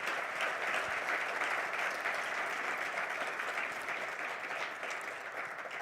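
Applause from an audience at a business event in August 2022 fills the whole stretch as a steady, even patter of clapping, somewhat distant and fading slightly toward the end.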